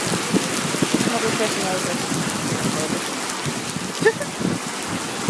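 Steady rain falling outdoors on a littered street, a dense continuous hiss of drops on surfaces throughout, with a person talking over it near the mic.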